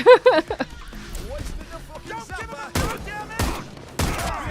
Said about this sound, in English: My gunshots are really loud.